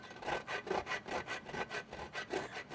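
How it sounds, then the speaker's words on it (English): Bread rubbed up and down on a grater by hand in a home kitchen, a steady rhythmic rasping of about eight close, even strokes with no talking. "So we're gonna take our piece of bread and we're just gonna grate it."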